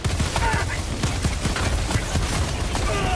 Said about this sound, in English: They're still shooting my dead body.